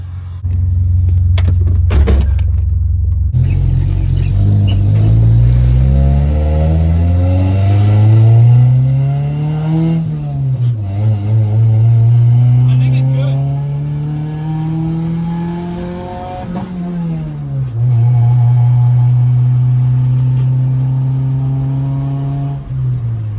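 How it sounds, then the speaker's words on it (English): A Honda running a non-VTEC engine on a VTEC ECU pulls out and accelerates hard. The engine note rises loudly through several gears, with pitch climbing and dropping at each shift, heard up close and without speech. "So I'm gonna give Liam the camera when we pull out, and if I get on it and it goes, I think we're good"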